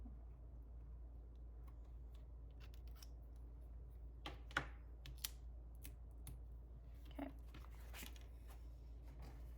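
Scissors cut out a small paper notch for a vintage travel journal, making a few faint, quick snips and light clicks over a quiet, steady low hum.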